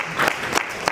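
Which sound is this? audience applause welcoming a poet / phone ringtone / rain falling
audience applause welcoming a poet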